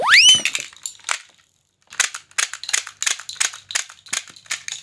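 A toy pistol fires a rapid string of sharp cracking shots until the magazine runs dry, then a brief silence, followed by a busy run of clicks and mechanical rattles close to the microphone.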